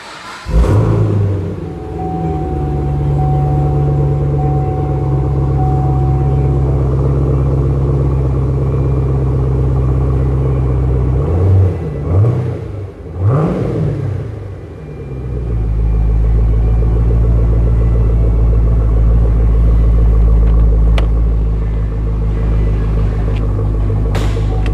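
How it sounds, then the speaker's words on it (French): A V8 engine in a 2011 car with a six-speed automatic idles with a deep, steady rumble close by, gives a few short revs midway, then settles back into a low, loud idle. "Je vais la démarrer pour que vous puissiez entendre. Et puis on va popper le hood. Donc c'est le V8."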